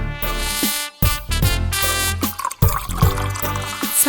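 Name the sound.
water being poured in while cooking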